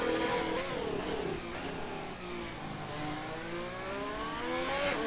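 A Formula One car engine in the F1 2020 racing game screams through a fast lap of the Singapore circuit, heard onboard with revs rising and falling through gear changes, loud and continuous, no voices.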